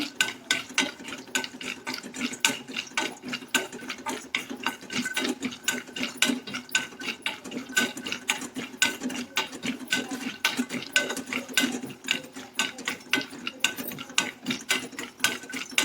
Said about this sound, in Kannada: ಗೋಡಂಬಿನ ಜಾಸ್ತಿ ಫ್ರೈ ಮಾಡೋಕ್ಕೆ ಹೋಗ್ಬಾರ್ದು, ಸ್ವಲ್ಪ ಹಂಗೆ ಹುರ್ಕೋಬೇಕಷ್ಟೇ